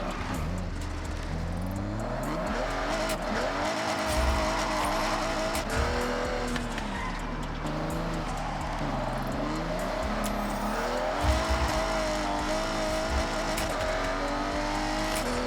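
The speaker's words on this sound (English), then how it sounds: "So we're going to be paddle shifting, boys. Paddle drifting." Car drifting in Forza Horizon with a clutchless, paddle-shifted transmission, the engine note sweeping up and down through shifts while tires squeal continuously across the whole stretch, loud and close, with no talking.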